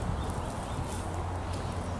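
A chestnut horse, seven years old and 1.55 m tall, walks with soft, steady clip-clopping hooves, close by and fairly loud, with no one talking during the brief moment.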